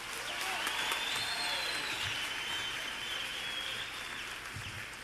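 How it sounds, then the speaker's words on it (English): Steady applause from a crowd, fairly even in loudness throughout, with a faint high chirping carrying over the clapping. "Let's give him another round of applause."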